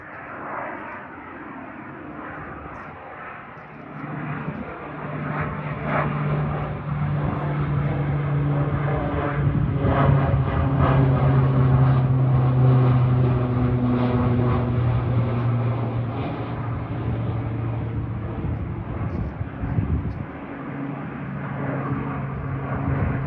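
A firefighting plane with water tanks under its wings drones overhead, a steady, rising and fading engine roar that builds toward the middle and lingers as it passes, with no voices.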